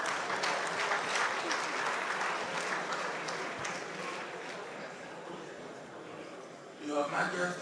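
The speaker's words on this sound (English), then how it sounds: "Let's give a round of applause to a man who knows what time it is." Broad applause at Mike Ozekhome's 67th birthday celebration as a dignitary is escorted to the podium, loud at first, then gradually thinning, with a voice starting to speak at the end.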